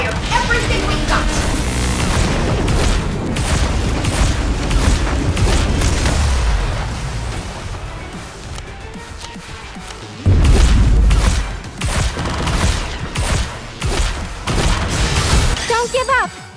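Weapons fire and explosions in Goddess of Victory: Nikke during a solo raid against the Golden Kraken, with loud booms and bursts pounding in quick succession and a heavy blast near the end, mixed with voices and music.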